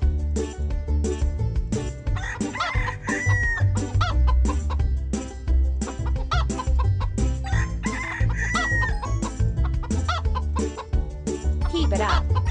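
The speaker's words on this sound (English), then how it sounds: "Our hens are hungry. Feed them with the grain from the sack." In a toddler farm video game, hens cluck busily and a rooster crows over bright looping game music, with repeated clucking bursts throughout.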